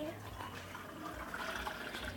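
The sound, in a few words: water being poured for making slime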